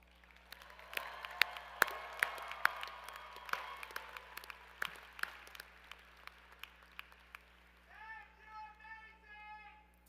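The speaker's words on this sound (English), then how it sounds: "Graduates, join me in giving them a heartfelt round of applause." Commencement audience at a community college graduation clapping for family and supporters, a scattered round of applause with sharp individual claps that thins out, followed by a speaking voice at the end.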